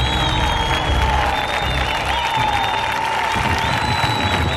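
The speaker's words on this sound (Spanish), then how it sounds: "un fuerte aplauso del público" An audience applauds and cheers at a live show, a dense continuous wash of clapping with whistling tones running through it.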